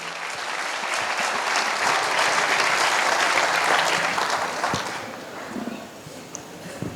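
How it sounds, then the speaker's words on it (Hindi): An audience at a direct selling event claps in loud, sustained applause that swells and then fades out over several seconds. "इन लोगों के जोरदार ताली होना चाहिए।"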